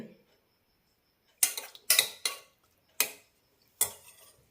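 Pepper, garlic cloves, curry leaves, turmeric and coconut crushed together in a kitchen, heard as five sharp, separate pounding knocks at uneven intervals after a quiet pause, close and clear with no talk.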